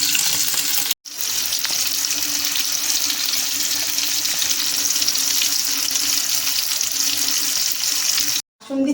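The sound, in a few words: chicken pakoras frying in oil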